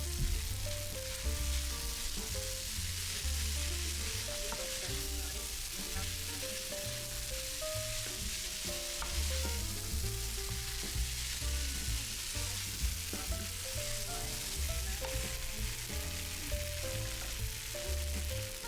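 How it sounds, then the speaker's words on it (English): Continuous loud sizzling and crackling of glutinous rice stir-frying in a hot wok for zongzi, with scraping stir strokes under light background music. "Stir fry and mix together until you get a nice brown color."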